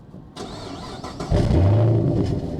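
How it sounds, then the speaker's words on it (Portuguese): A Chevrolet Camaro V8 coupe with a flip key starts up: a short cranking whine, then the engine catches and settles into a loud, deep, rumbling idle close by. "dá para ligar o carro através dela"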